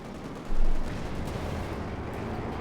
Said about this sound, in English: Panther engaging in AC2 here for the Panther Faust. Another shot there.